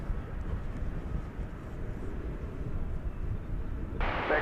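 An airliner arrives at DFW airport, a low steady distant engine rumble that holds throughout before a hissy noise burst near the end.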